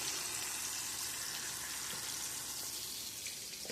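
Meatballs, spaghetti and fish cook together in a pan, making a soft, continuous watery sizzle and bubbling hiss that stays even and fairly quiet the whole time.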